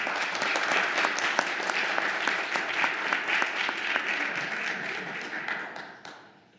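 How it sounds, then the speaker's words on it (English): Applause fills a city council meeting for a Cub Scout pack after its ceremony: a dense, steady wash of many hands clapping at moderate distance, fading away in the last second. "If we could give them a round of applause."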